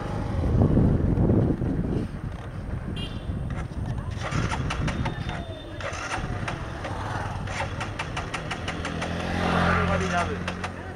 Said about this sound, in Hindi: देख रहे हैं बाइक एक्चुअली हेजिटेट कर रहा है।